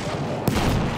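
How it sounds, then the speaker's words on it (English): A single sharp burst of machine gun fire in the Battlefield 1 video game, loud against a steady background of battle noise. "Machine gun right there!"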